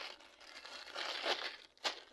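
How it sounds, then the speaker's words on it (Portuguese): Plastic zipper envelopes are handled and crinkled close up, a continuous rustle and crackle that peaks in a couple of sharper crinkles near the end, with no speech. "Então eu comprei esses envelopes aqui, que são os de zíper, né?"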